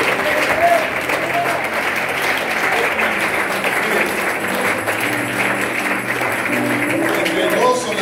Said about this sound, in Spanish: Denle un aplauso al Señor con todos